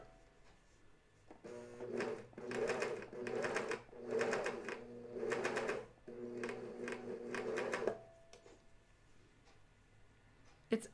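A coverstitch sewing machine runs in bursts over pajama tops, its rapid mechanical needle chatter starting and stopping in several pedal-driven runs of a second or two, close and clear, with quiet pauses between.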